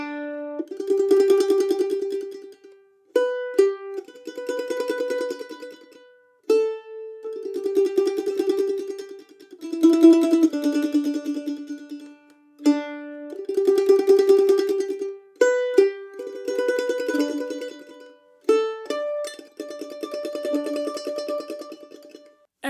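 Mandolin played with rapid tremolo picking, each note shimmering as a fast stream of repeated strokes, phrased in short melodic groups separated by brief pauses, close and solo without talking.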